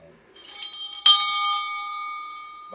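A hand bell is struck once, close and clear, its bright ringing tone hanging and slowly decaying after a few softer metallic clinks.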